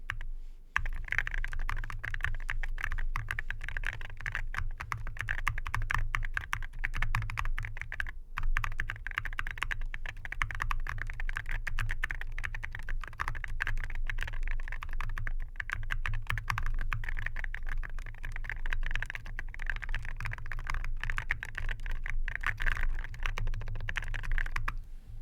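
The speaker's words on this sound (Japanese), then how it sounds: "このロンドンフォグ非常におすすめなので、ぜひちょっと、 キーボードに載せた音を聞いてみてください" Close, steady typing on a keyboard fitted with London Fog linear red switches, a continuous stream of soft, even keystrokes lasting about twenty-five seconds with no talk.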